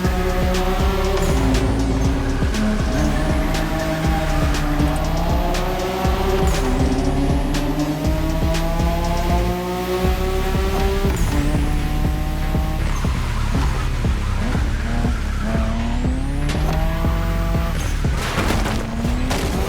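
Cars drifting in The Crew Motorfest racing game, including a Nissan Skyline GT-R: a loud, sustained engine roar rising and falling through gear changes, with tire squeal and screeching through long oversteer slides.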